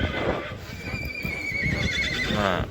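Young horses and foals neigh and whinny nearby at a horse market, several high squealing calls overlapping against a busy background with hoof clatter and faint voices.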